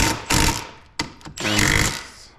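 A power tool torques down a bolt on a convertible top micro switch on a 2013 Porsche Boxster 981, giving a few short, loud mechanical bursts close by, with brief pauses between them.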